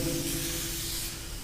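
Wax and grease remover sprayed from a can onto a car body panel before painting, a steady close hiss lasting about a second and a half without pause.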